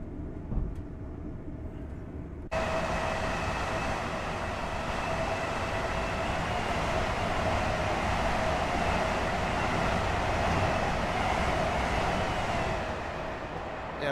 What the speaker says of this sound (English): There's another AP train going through there actually